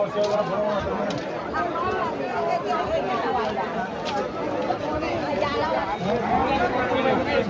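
Dense crowd at the Pandharpur wari market on Ashadhi Ekadashi, a continuous loud babble of many voices close around, with a speaker talking over the steady hubbub.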